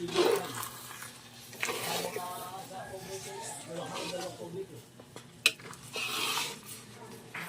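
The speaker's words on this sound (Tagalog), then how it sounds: "So medyo ano na po hirap ng haluin." A spoon stirs a thick, thickening snack mixture in a cooking pot, scraping and clinking against the metal in irregular strokes close by, while someone talks.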